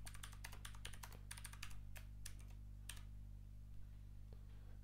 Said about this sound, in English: just type the password 9818